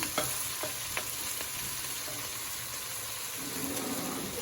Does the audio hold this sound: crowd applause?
no